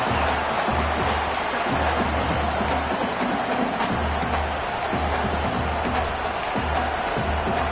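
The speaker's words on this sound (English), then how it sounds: "And here comes the noise. This crowd is trying to inspire this defense" A large football stadium crowd roars and cheers continuously to urge on the defense, a steady wash of noise with a low hum underneath.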